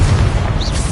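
Confringo blasting spell in Hogwarts Legacy, a short loud booming burst with heavy low rumble and a brief rising whistle partway through, close and continuous without speech.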